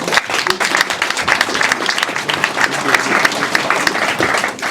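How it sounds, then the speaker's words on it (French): Applause from a French round-table audience on relations between France and French-speaking countries, many hands clapping densely and steadily at close range, with a voice or two faintly mixed in. "Je pense qu'il mérite des applaudissements"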